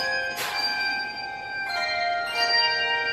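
Christmas carolers ring handbells outside a Fred Meyer store, giving clear sustained metallic chimes that swell in three separate strikes and linger over low crowd ambience, with no talking.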